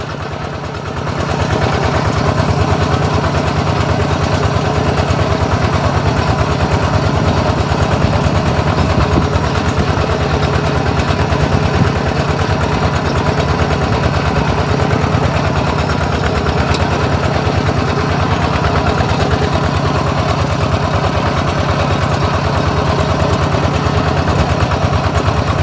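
A long-bed pickup truck's engine idles on a rural dirt road. A steady, close, continuous rumbling hum with a faint mechanical rattle runs unchanged throughout, with no talking.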